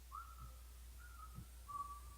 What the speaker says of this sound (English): Timothy heard a familiar whistling coming from outside.